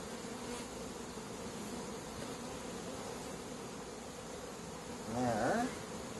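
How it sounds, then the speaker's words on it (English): Honey bees buzz steadily around an open hive during a July hive inspection, a dense close insect drone throughout, swelling louder near the end as bees pass right by. "You're getting covered in bees."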